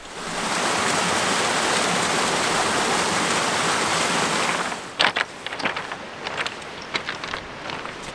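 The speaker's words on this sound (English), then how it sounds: "the river down the bottom here, which is from all the ice melt" A glacial meltwater river rushes through a mountain valley, a loud, steady broadband roar that fades in quickly, holds for several seconds, then drops away abruptly, leaving a quieter background with scattered clicks and knocks.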